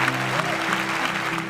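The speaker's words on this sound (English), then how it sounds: "Let's give them a round of applause." Brief applause from an audience at a keynote, a steady wash of clapping hands throughout the short moment, with a low hum underneath.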